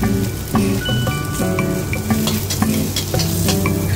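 Onion and ginger sizzle steadily in a frying pan with a little oil, a loud, close hiss broken by the scrape and clink of stirring, with no voices.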